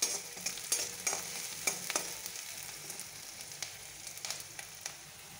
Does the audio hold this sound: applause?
no